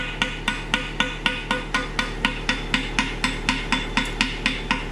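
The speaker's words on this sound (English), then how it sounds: "Slag hammer." A slag hammer chips welding slag off a repaired excavator bucket, sharp metallic strikes in a steady rapid rhythm, about three per second, close and alone with no talk.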